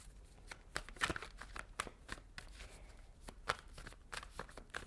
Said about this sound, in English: let's shuffle and pull some cards